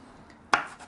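A kitchen knife slices through a cantaloupe, ending in one sharp knock against the cutting board followed by a brief fading rustle, close and fairly soft, with no voices.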